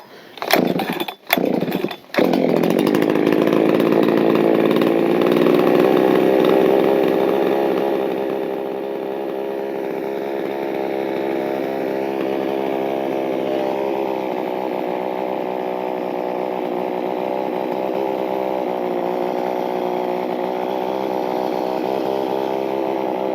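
A Husqvarna 266 chainsaw runs steadily and loud, alone, after a couple of sharp pull-start bursts, its high whining drone settling to a slightly lower, steady pitch partway through.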